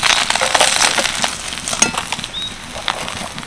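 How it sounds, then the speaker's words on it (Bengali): Cumin seeds ground by hand on a stone slab with a stone pestle (shil-nora), a close, gritty crushing and scraping in uneven rhythmic strokes. "ততক্ষণে শিলনোড়াতে মশলাগুলো বেটে নিই।"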